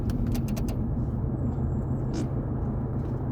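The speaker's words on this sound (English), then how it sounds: "Oh, car coming the other way." An oncoming car passes the other way on a narrow road, heard from inside a moving vehicle as a loud, constant engine and road rumble with a brief swish as it goes by.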